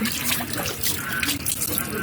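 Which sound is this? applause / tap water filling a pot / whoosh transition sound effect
tap water filling a pot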